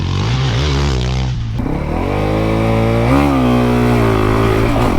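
A Honda CRF450XR dual-sport motorcycle ridden off-road, its single-cylinder engine droning loud and close with rising and falling revs as the rider accelerates and shifts.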